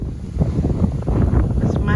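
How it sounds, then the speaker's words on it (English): Wind gusts steadily outdoors in a vegetable garden, roaring across the microphone in a continuous rumbling buffet with no pauses, loud and close throughout. "I wanted to show you how windy it's getting"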